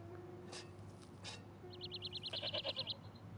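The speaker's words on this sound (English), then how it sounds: "The goat!" A goat tethered by a rope bleats in the Broken Sword adventure game, a quick run of high, nasal bleat pulses in the second half over a steady low background hum.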